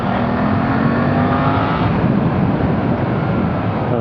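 A Suzuki GSX-8S motorcycle accelerates on an open road, its engine note climbing steadily under loud wind rush, heard up close from the rider's position with no speech.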